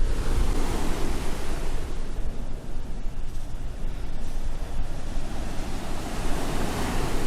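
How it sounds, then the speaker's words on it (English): Strong breezy wind blowing steadily at the seaside by the sea defences, with surf and waves rumbling underneath, loud and continuous without a break. "it's definitely breezy and cool, the wind"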